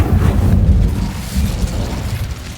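Incendio fire spell cast in the video game Hogwarts Legacy, a loud low whooshing burst of flame that roars up and then fades over a couple of seconds.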